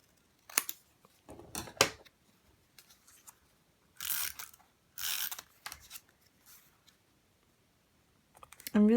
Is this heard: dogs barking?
no